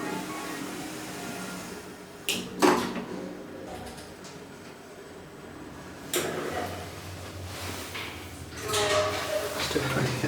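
Lift doors slide shut in the Queensmere shopping centre, with a few mechanical thuds and rumbling slides spread across a background of low hum and indistinct voices.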